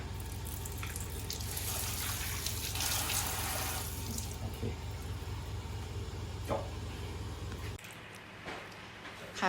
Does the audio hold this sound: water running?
yes